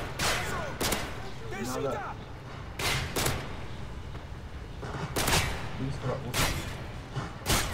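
Sharp gunshots crack out in scattered bursts, several single and double shots, mixed with game sound effects from a World War–era shooter game while someone talks throughout.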